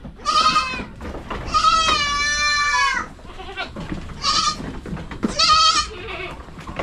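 Goats with their young bleat repeatedly on a farm, several loud, wavering calls overlapping close by with short pauses between them.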